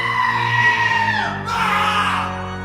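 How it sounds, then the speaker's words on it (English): A goat screams in a sound effect, one long wavering cry that bends downward and then breaks into a second, harsher and brighter yell, loud and close with no talk over it. "Did Allan earn the goat screams this week?"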